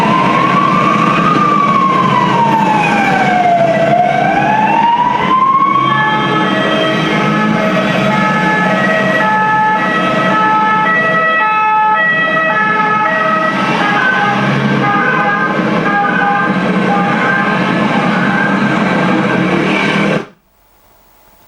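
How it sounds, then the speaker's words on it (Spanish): A loud emergency siren wails continuously, first sweeping slowly up and down, then switching to a steady two-tone pattern, running unbroken for about twenty seconds before cutting off abruptly. "Una ambulancia, no es música."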